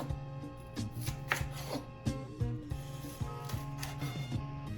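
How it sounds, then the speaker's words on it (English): A sharp knife chops through a pepper on a cutting board in quick, irregular close-up strikes, each with a crisp thud and faint board resonance, with no talking. "we're gonna cut up our pepper like so"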